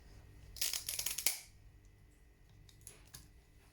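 Scissors snip fins off a tilapia in a kitchen: a quick burst of sharp clipping and crunching clicks, followed by a few fainter isolated snips and handling noises.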